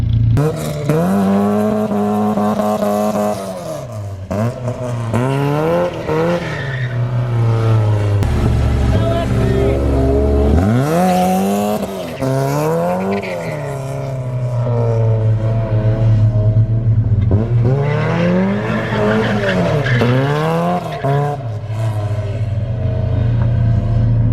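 A Porsche 944 race car engine revs hard and continuously in a sustained, loud roar with rising and falling pitch sweeps as the car spins donuts, with a brief voice faintly under the noise.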